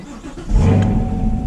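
A 2020 Chevrolet Camaro 2SS with a six-speed manual starts up, its engine catching after a brief crank and settling into a loud, deep, steady rumble close by.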